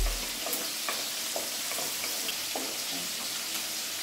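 Sliced onion and garlic sizzle steadily in hot olive oil, a dense, continuous frying hiss with occasional soft stirring scrapes, close and without talk.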